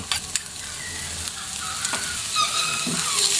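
Crushed garlic and onion sautéing for a chicken dish, a bright close sizzle with a few sharp spatula clinks early on, the frying hiss swelling louder toward the end without any talk.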